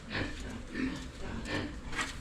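A hungry pig grunts in short, rough bursts at a steady pace, moderately close, against a noisy outdoor background.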